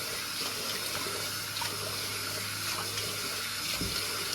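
A tap runs cold water into a sink during face washing, an even, close rushing splash with faint clinks and shifts in the stream, and no voices.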